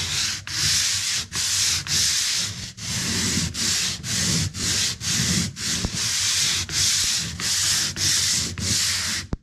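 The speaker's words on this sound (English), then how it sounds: "I have a little sander here." A small hand sander works over a patched wall, rasping in steady back-and-forth strokes with brief pauses between passes, loud and close throughout.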